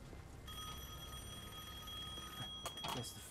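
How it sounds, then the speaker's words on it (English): A telephone ringing in a phone booth in Devil May Cry 5, a steady electronic tone with bright pitched overtones, fairly faint and sustained for a few seconds before a few short clattering knocks. "Some telephone booths have active phone calls."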